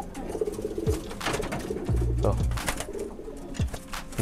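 Pigeons in a cage coo in low, throaty, repeated calls close by, with some rustling and a voice speaking briefly in the background.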